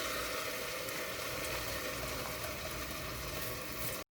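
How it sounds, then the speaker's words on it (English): Steady, loud sizzling and bubbling as boiling water hits frying rice for maqluba, a constant hiss that cuts off abruptly at the end. "Also I'm gonna add the boiling water."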